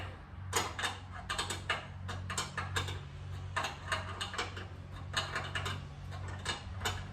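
A wrench tightens bolts underneath a 1957 Harley Servi-Car in bursts of quick ratcheting clicks, close and fairly distinct, over a low steady hum.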